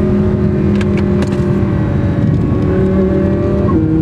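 An Audi R8 V10 accelerates hard on a track, its engine roaring loud and close as the revs climb steadily and then shift near the end, with no talk over it.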